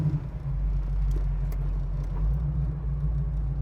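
A 1969 COPO Camaro muscle car pulls away in low gear, its deep, steady engine rumble filling the whole stretch at close range with no pauses.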